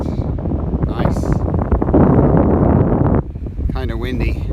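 Strong wind on an exposed Appalachian Trail ridge buffets the microphone in a steady, loud roar that swells in the middle, with a voice speaking briefly near the end.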